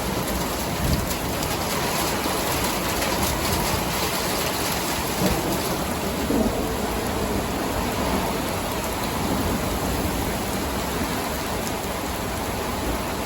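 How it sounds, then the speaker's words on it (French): Heavy rain from a supercell thunderstorm pours steadily with a dense hiss, and low rumbles of thunder roll underneath throughout. "quel orage de dingue"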